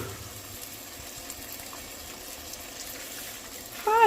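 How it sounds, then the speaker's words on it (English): Strained sauce pours into a pan of vegetables for chicken sopes, a soft, steady liquid gush that runs low and even throughout, with a brief louder bump at the very end. "And now this is where I just strain the sauce in there."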